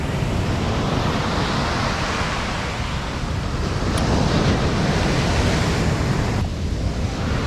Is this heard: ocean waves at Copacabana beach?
yes